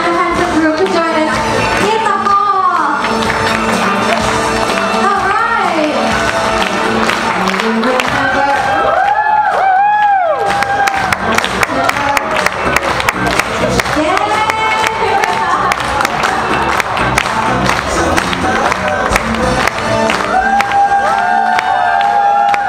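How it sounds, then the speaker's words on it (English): Wedding guests in Penang applaud and cheer as the bride and groom are welcomed, a loud, continuous crowd of clapping mixed with whoops and excited shouts. "please keep your applause going as we invite the beautiful bride and the handsome groom to join us"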